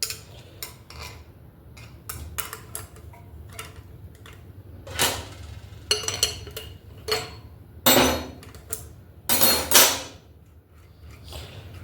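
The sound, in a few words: loosening BMX axle jam nut with wrench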